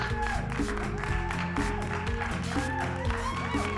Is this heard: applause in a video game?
yes